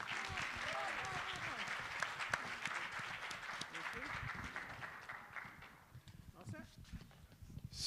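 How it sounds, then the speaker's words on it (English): An audience at a panel event claps for the panelists, loud dense applause that thins toward the end, with voices talking over it. "one more round of applause for our panelists"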